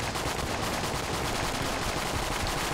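Rapid, dense gunfire from the Patriot gun in the game Enter the Gungeon rattles on without a break, loud and close, with no talking.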